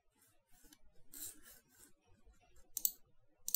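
Computer mouse clicks, a few sharp close taps spaced apart and quiet, with no talk.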